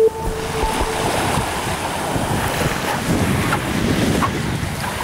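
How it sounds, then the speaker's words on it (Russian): Waves wash continuously onto a long white-sand beach on Phu Quoc island in Vietnam, a steady surf roar mixed with gusty wind buffeting the microphone, with no voices. "Несколько километров белого песка и непривычной тишины, где шумят только волны."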